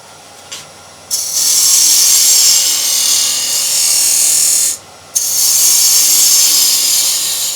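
Parting tool cutting into a spinning wooden box blank on a lathe, a loud, steady hissing scrape that starts after a brief tap, runs for several seconds, breaks off for a moment and then resumes.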